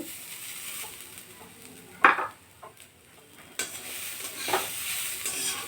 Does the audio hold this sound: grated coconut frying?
yes